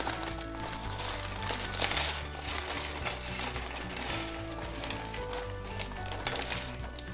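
Lego pieces from a Wonder Woman Dorm set, number 41235, are dumped out of a bag onto a surface, a dense rattling clatter of small plastic bricks that lasts several seconds.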